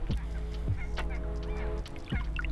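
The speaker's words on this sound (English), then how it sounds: "Watch out for the swans because they'll have a go at you." Swans call beside a carp fishing lake, with a few loud, nasal, honking cries rising over a steady low outdoor rumble. The calls are close and come in short bursts.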